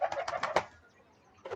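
Pigeons kept in a home coop coo in a quick run of about five close, soft bursts, then fall quiet before one more call starts at the end.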